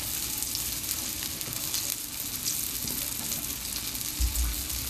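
Breaded seitan cutlets frying in oil in a pot, a dense, steady, close sizzle that holds throughout, with a brief low bump near the end and no talking.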